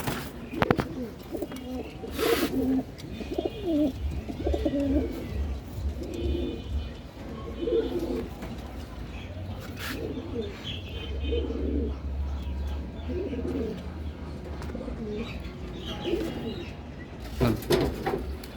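Domestic pigeons kept at a house coo in repeated soft, throaty phrases at close range, with occasional chirps and brief knocks and rustles between calls.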